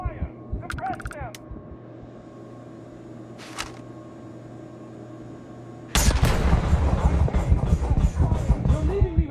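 Gunfire in a Starfield sci-fi firefight: a steady low hum and scattered faint clicks at first, then a sudden loud, dense barrage of shots and impacts fills the last few seconds.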